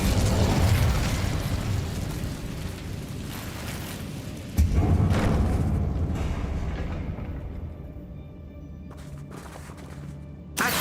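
Incendio fire spell cast in Hogwarts Legacy: a whooshing, roaring burst of flame that swells and fades, a second sharp burst midway, then a crackling decay and a final quick pop.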